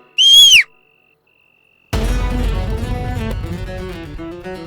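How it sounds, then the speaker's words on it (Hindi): A single sharp, shrill whistle blast blown as a warning signal, lasting about half a second, followed by silence and then a stretch of layered music. "मैडम से मैं सीटी बजा दूंगी"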